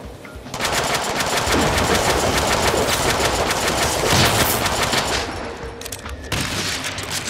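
Deadpool's gun firing in rapid automatic bursts, a loud, dense rattle of shots lasting about five seconds, then a short break and a fresh burst, heard alone with no voices.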